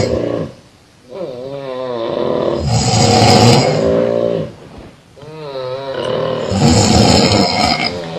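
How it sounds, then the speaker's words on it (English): Loud, rattling human snoring, two long rasping inhalations each followed by a rough exhale, close to the microphone. "We have different kind of snoring."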